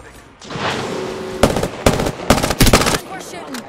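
Squad gunfire in the battle royale game Apex Legends: bursts of rapid automatic fire and sharp shots crackle up close, with several loud clustered volleys in the latter half, under some faint background voice.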